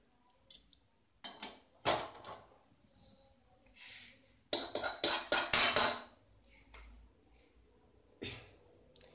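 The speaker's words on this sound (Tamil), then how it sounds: "இந்த இழுப்பச்சட்டியிலேருந்து எள் எடுத்து ஒரு தட்டில் கொட்டி வச்சிடலாம்" Sesame seeds poured from a pan onto a plate, a series of sharp rattling, hissing bursts with scraping clinks of metal between them, close and fairly quiet with pauses between pours.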